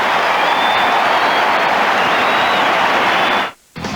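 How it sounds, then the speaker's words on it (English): A large crowd at a 2003 Australian rules football match between the Adelaide Crows and St Kilda roars and applauds after a kick at goal, a loud, dense, steady wash of cheering that cuts out abruptly near the end. "The crowd like it."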